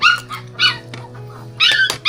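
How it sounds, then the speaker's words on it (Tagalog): A dog barks and yips in short, sharp bursts, several close, loud calls with brief whimpering between them over a low steady hum, without talk. "Ingay ng aso mo."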